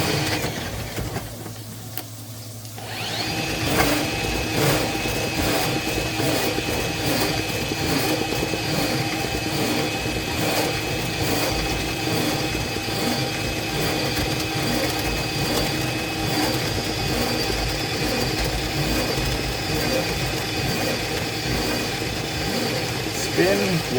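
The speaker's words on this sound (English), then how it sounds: "Pull it back just a bit so that the machine will start spinning it again." A drain cleaning machine spins its cable inside a clogged kitchen sink pipe, giving a steady, continuous mechanical whir and grinding rattle that starts after a brief quiet moment and runs evenly to the end.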